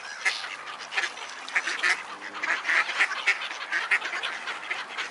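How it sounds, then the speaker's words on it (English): Seagulls, including a black-headed gull, squabble with ducks in a noisy outdoor flock, a dense, continuous mix of squawks, quacks and harsh calls at moderate loudness with no talk. "Bird fight. Look at that big one."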